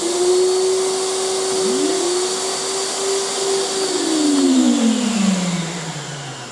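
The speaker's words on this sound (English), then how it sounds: "3 1 kilowatt vacuum motors, which you can switch on individually or all at once." A Hyundai HYVI10030 wet and dry vacuum with three 1 kW motors runs steadily and loudly, its whining motor tone shifting in pitch and dipping toward the end, with no talk over it.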